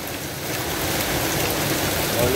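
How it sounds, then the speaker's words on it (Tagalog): Hail falling in Riyadh makes a dense, even hiss of pelting ice across the whole stretch, growing slightly louder toward the end, with no voices. "Kala ko may bumabato dito, yung pala yelo."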